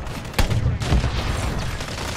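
Incendiary dual shotguns firing in a video game, a sharp blast followed by a rapid crackling burst of shots, close and loud.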